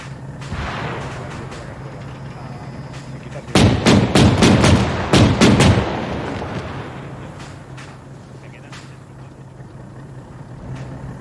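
Machine gun fire in the military shooter ArmA 3, sounding as a tight cluster of loud, sharp bursts of shots over a few seconds amid steady background rumble, then fading into quieter ambience with occasional distant single shots.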